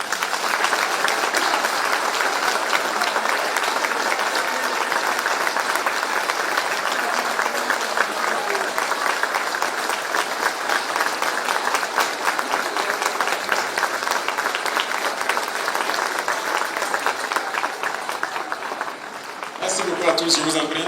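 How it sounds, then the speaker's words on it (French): Sustained applause from a large crowd at a public address by a speaker, steady and dense for about twenty seconds, then tapering as a voice begins. "Donc une minute d'applaudissement."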